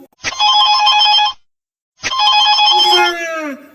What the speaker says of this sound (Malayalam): ലോകത്തിലെ ഏറ്റവും വിശ്രമം കുറഞ്ഞ ഫോണുകളിൽ ഒന്നിലേക്കാണ് രാജു വിളിച്ചത്.